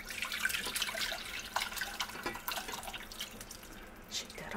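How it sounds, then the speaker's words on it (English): Canned turkey soup poured out of a jar into a cooking pot, giving a wet, splashy, dripping stream with some irregular clinks, close and moderately loud over roughly four seconds. "Let's pour that in."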